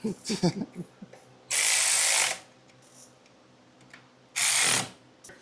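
Ratchet snugging the bolts on a Trask derby cover, heard as two separate bursts of rapid clicking, close and fairly loud, with brief clanks before them and no talk.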